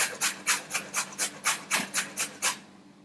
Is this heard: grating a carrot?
yes